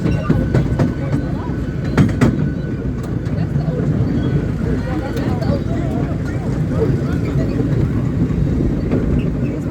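A small amusement train ride rolls through a tunnel, with a continuous close rumble and scattered clicks and rattles from the cars.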